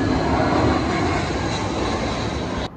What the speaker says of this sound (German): Und das nächste Flugzeug kommt schon.